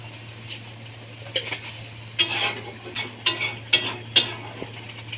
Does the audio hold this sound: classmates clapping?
no